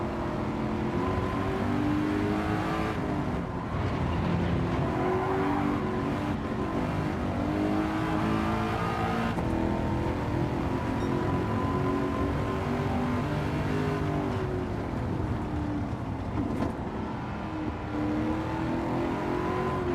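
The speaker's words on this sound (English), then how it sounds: "It is a fucking amazing sounding engine." A supercharged car in Gran Turismo 7 revs and pulls hard through gears, the loud engine note climbing and dropping repeatedly over twenty seconds, close and alone.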